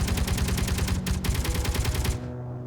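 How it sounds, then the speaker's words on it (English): Rapid automatic gunfire in the Space Engineers video game, a dense burst of quick repeated shots that is loud and continuous and then cuts off near the end. "Now I'm just shooting at random things."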